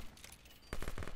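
Quiet video game gunfire: a soft, muffled stretch first, then a quick burst of several sharp rapid shots near the end.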